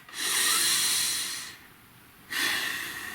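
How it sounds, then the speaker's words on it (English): Deep, slow breaths heard up close and loud: a long airy inhale or exhale, a brief quieter pause, then another strong breath starting, with no talking. "Please breathe."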